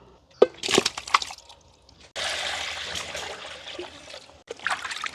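Water splashes and sloshes close by as fish pieces are rinsed and rubbed by hand, in uneven bursts with brief quiet gaps between.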